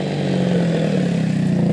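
A small quad bike engine revs hard at a stunt track, a steady loud buzzing drone with rising pitch that holds throughout, no talking over it.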